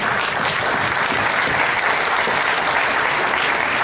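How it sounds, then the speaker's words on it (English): An audience claps in sustained, dense applause, a steady wash of many hands at an even level throughout with no voices standing out. "Give a round of applause, ladies and gentlemen."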